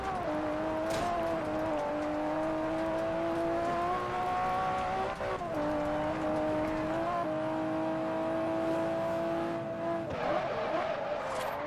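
Car drifting on gravel in the Forza Horizon racing game: a steady, loud engine drone holding a sustained pitch with small shifts and brief dips as the car slides, continuous throughout with no talk.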